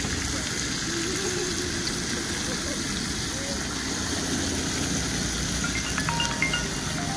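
Ribeye steak sizzling in a lot of butter, a steady broadband hiss of frying that continues throughout with a low rumble underneath, while people talk over it.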